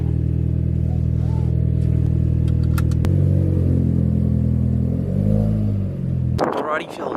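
A Volkswagen Golf Mk5 being driven, heard as a steady mid-pitched engine drone with a smooth rolling hum that shifts slightly in pitch, then a sharper rustle near the end.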